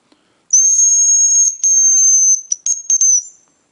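Forest game birds call from rowan thickets during an autumn hunt with long, clear, high whistles, a sustained note broken into shorter bursts at the end, loud and close with no talk.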